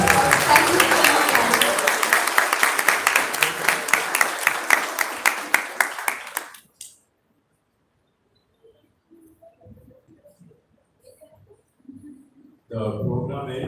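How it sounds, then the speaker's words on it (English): An audience at a literature and life club inauguration breaks into loud, dense applause that lasts about six seconds before stopping abruptly. Near-silence with faint scattered sounds follows, and then a voice resumes at the end. "Please give a huge applause."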